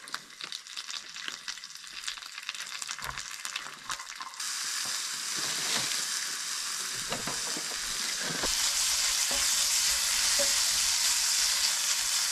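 Bacon and scrambled eggs frying in a pan on a camp stove outdoors during a late-autumn tent campout, a steady loud sizzle with occasional stirring scrapes, growing denser and brighter halfway through.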